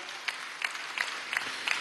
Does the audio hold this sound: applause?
yes